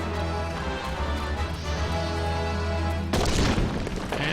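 Video game explosion blasting open a wall in Copperbell Mines, a sudden loud boom cutting in over a steady droning game background.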